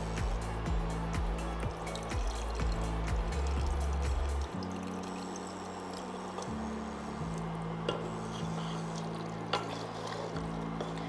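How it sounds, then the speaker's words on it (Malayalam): Water poured into a pot of simmering beef vindaloo, a close continuous splashing pour over bubbling liquid, with a few soft clinks toward the end. "നമുക്ക് കുറച്ച് വെള്ളം കൂടി ഒഴിക്കാം കേട്ടോ."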